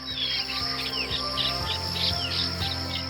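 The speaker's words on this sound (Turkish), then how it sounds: "Sabahleyin mesela saat 6'da kalktığınızda kuş cıvıltıları" Morning birdsong near restored historic houses in Zeytinlik: several birds chirp and tweet repeatedly, close and fairly loud, over a steady buzzing drone with no talk.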